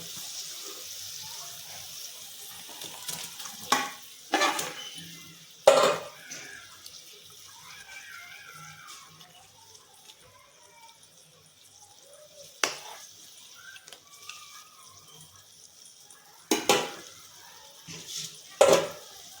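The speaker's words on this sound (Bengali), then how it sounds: "ঝোল ফুটে গেছে এবার আমি মাছগুলো ছেড়ে দেবো" Hilsa fish pieces slipped into a boiling mustard-poppy gravy, giving a soft bubbling, watery simmer with a few sharper splashes and clinks of a pan, heard close up with a voice talking at times.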